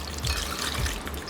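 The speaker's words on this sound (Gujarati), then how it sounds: "ગરમ પાણીમાંથી બહાર કાઢીને હવે એને ઠંડા પાણીથી ધોઈ લેવાનું." Soaked, softened soya chunks rinsed under cold water in a kitchen, giving a brief steady trickle and splash of running water, close and moderately loud, with a couple of low thuds as the chunks are handled.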